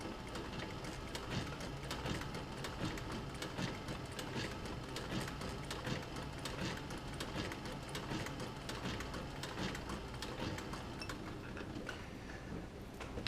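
A sewing machine stitches leather for a camera utility bag, its needle ticking in a steady rapid rhythm throughout, close and moderately loud with no voices.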